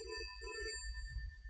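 A telephone rings in two short, bright electronic bursts, close and clear, before the ringing cuts off.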